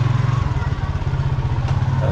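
Motorcycle engine idling nearby with a rhythmic low chugging pulse, steady and loud throughout, with faint talk mixed in.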